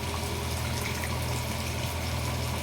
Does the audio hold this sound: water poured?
yes